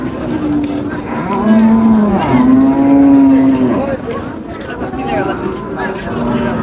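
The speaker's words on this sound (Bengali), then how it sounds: "মুস্তফা ভাই এই ধরনের একটা বকনা আমার কালেকশন করে দেন" Cattle mooing at a rural cattle market in Naogaon, Bangladesh, several long drawn-out lows one after another, close by, with market chatter and crowd noise underneath.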